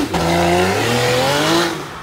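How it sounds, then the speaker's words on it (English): A supercar engine revving hard, a loud, screaming note that climbs and holds for about two seconds before tapering off, close and alone. "his engine is screaming otherwise"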